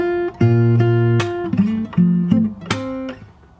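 Fingerstyle acoustic guitar picks out the opening verse bar of a song, with plucked chord tones ringing over low bass notes and a slide on the second string, played alone and close.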